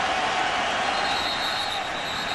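A stadium crowd at a 2005 Kansas State at Marshall college football game in Edwards Stadium makes steady, loud noise during the first quarter, with thunder claps folded into a dense, continuous roar.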